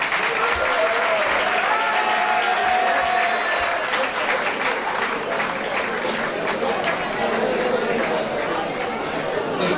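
Loud, dense applause from an audience welcoming a guest speaker at a university media talk in Dhaka, sustained throughout with crowd chatter mixed in.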